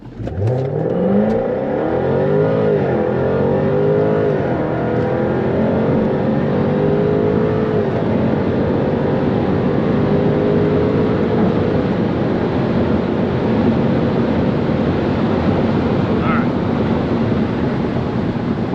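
A Jaguar F-Type R roars hard through a high-speed 60–130 mph run, its loud engine note climbing steadily through rising gear pulls, then settling into a sustained, strained drone with wind and road roar.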